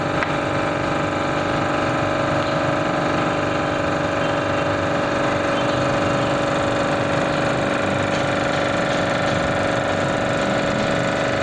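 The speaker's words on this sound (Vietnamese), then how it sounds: "động cơ nén không dầu" An oil-free, high-pressure Japanese domestic-market air compressor runs steadily and loudly, its motor giving a continuous mechanical drone with a dense rattling hum that holds unchanged throughout, with no talk.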